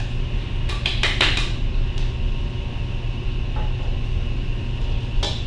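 A mixing bowl comes off a stand mixer for chocolate chip cookie dough, a quick cluster of metallic clanks and clicks near the start and another click later over a constant low motor-like hum, no talking.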